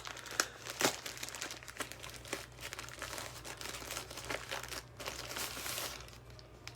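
Plastic packaging from an Amazon delivery holding a shirt crinkles and crunches up close in irregular bursts during an unboxing, with no voices.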